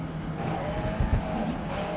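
Stock cars racing at the Red Bull Ring in the GRID Legends video game, a dense continuous engine roar with a passing car swelling briefly in the middle, loud and steady throughout.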